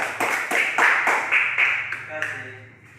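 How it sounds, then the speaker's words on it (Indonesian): Elementary school students in a classroom clap their hands in unison, about eight sharp rhythmic beats in a steady pattern, with a voice speaking as the clapping trails off. "Coba tepuk tangan."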